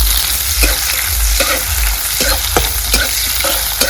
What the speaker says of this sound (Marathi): कांदा आपल्याला चांगला लालसर भाजून घ्यायचा.